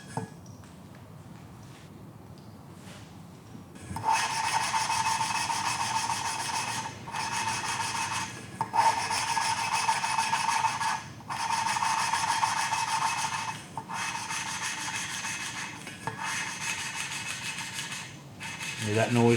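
Hand lapping of an engine valve seat with grinding paste: a steady, close rasping rub in repeated back-and-forth strokes with short pauses between bursts, starting after a few quiet seconds.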